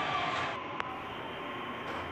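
A metro train pulls into a station in Hyderabad, a faint, low, steady rumble heard at a distance, with one short higher blip partway through.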